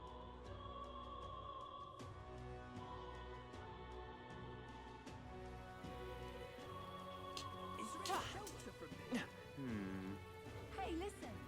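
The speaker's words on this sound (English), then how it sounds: "Oh, I hate the rain." Rain falls in the fantasy video game Metaphor: ReFantazio, a soft, steady patter running underneath game music and character voices, with a few brief louder effects toward the end.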